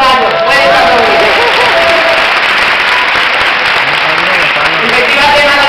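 Theatre audience at the Málaga Film Festival applauding a short film, a loud continuous wall of clapping with crowd noise and voices mixed in, steady from start to finish.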